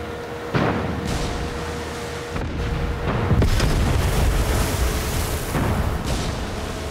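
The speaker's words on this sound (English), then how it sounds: "Check out the fireworks." Fireworks explode in the video game Far Cry 6, a series of deep booms and crackling bursts over continuous loud rumbling, with several sharp blasts spread across the stretch.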